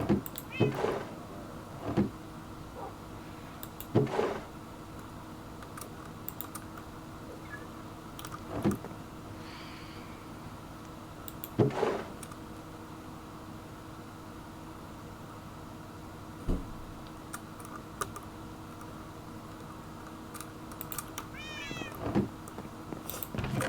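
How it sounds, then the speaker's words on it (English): Cats meow in Minecraft Bedrock Edition, with short meows repeating every few seconds over a low steady game hum, fairly faint, while a voice occasionally speaks. "Cats."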